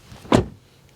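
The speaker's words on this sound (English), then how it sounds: "try and listen to the sound when you close the door" A single solid door thump from an Aiways U5 electric SUV, close and fairly loud, with a short muffled decay and quiet surroundings before and after.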